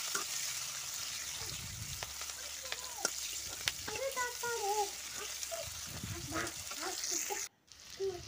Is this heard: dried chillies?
yes